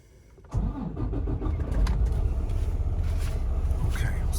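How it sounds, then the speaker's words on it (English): A 2020 Freightliner Cascadia's DD15 diesel engine cranks and catches, then settles into a steady, rumbling idle close by, with no voices. "So let's get this truck started up and see"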